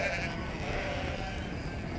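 Sheep bleat from a flock kept by shepherds in the fields at night in a Christmas nativity story. The calls are thick and close, over a dense, continuous wash of background noise.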